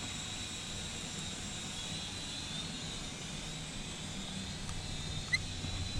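A cheap Wi-Fi FPV drone flying, giving a steady, even whirring hum that holds at constant level throughout with no voices.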